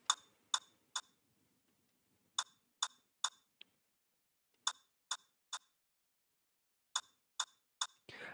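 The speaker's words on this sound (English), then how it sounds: "so I introduced this rim shot" Crisp, dry percussive clicks repeat in short groups of three with pauses between, a rim shot drum sample for an Afrobeat track in FL Studio played cleanly in a quiet room.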